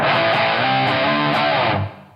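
A sustained electric guitar chord rings out with a wide, echoing reverb tail, then fades quickly near the end.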